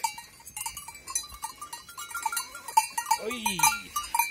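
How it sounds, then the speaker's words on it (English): Sheep crowd around hikers on an Alpine trail, a cowbell clanking in repeated metallic rings with a short bleat near the end, close by, while people talk over it. "They are the most inquisitive sheep I've ever seen"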